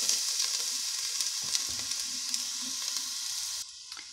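Garlic toasts in a pan for a zucchini and carrot soup, giving a steady, close sizzle with occasional stirring clicks. The sizzle drops off sharply near the end, and no voices are heard.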